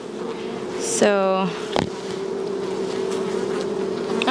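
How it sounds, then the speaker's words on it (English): Honey bees buzzing at an open beehive during a hive inspection, a close, steady drone that fills the whole clip, with a short spoken word and a brief knock near the start. "My mic just set down on the beehive. Probably hear a lot of bees."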